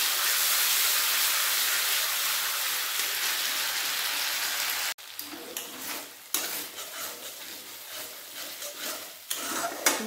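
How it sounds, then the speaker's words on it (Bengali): Ground poppy seed, cashew and ginger paste hits hot oil with a loud, steady sizzle, then settles into softer, uneven frying crackle with occasional stirring bursts, close and without talk. "ওই তেলের মধ্যে এরপর দিয়ে দেবো বেটে রাখা পোস্ত, কাজু, আদা সব বেটে রেখেছিলাম।"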